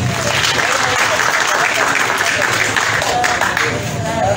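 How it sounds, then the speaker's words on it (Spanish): Audience at a health ministry event in Yapacaní giving loud, dense, sustained applause, with crowd noise mixed in. "Para él, un fuerte aplauso"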